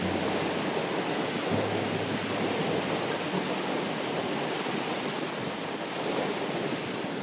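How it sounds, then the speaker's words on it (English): Rushing river swollen after heavy rain, a loud, constant broadband roar of water at close range that stays steady throughout, with no talk. "And the water's loud."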